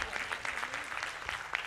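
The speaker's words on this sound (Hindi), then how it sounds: "यदि सही बोल रहा है तो ताली तो बजाना चाहिए ना" A crowd at a religious darbar gathering claps steadily, a quick, fairly dense patter of hands heard at a moderate distance without talk.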